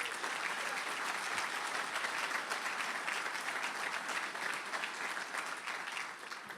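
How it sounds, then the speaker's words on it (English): Steady applause from a political conference audience in Michigan honoring the governor, dense even clapping sustained throughout without a break, moderately distant and fading slightly at the end. "Let's give your governor another round of applause."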